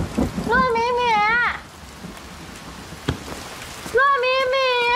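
Steady rain falls as a soft, continuous hiss through the whole stretch, while voices with a rising and falling tone come in near the start and again at the end.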